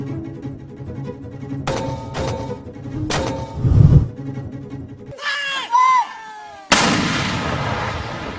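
A Cardom 120mm soft-recoil mortar system fires from an armored vehicle, giving several sharp, booming reports in quick succession. A narrator speaks over them, and the sound cuts abruptly between shots.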